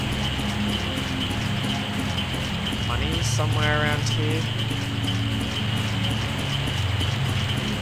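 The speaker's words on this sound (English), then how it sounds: "A hard rain is falling." Hard rain hisses steadily and loudly in the Grandia game on Mount Typhoon, a dense unbroken wash with a brief chirping effect partway through while a person talks over it.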